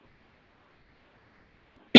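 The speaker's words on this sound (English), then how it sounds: "Sorry for coughing a lot." A single short, sharp cough breaks in abruptly at the very end after near silence, close and fairly loud.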